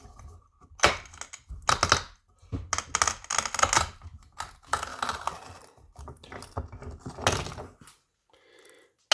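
Hard rock quartz gold specimen being trimmed along a natural cleavage, giving close, irregular bursts of crunching and scraping clicks that stop and start.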